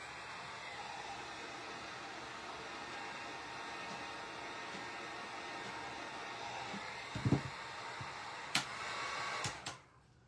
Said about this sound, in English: I'm going to hit it with a dryer